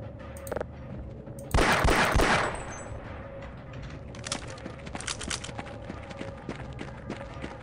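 A Half-Life turret fires a loud, short burst of machine-gun fire, followed by scattered clanks and footsteps within the game's sound effects.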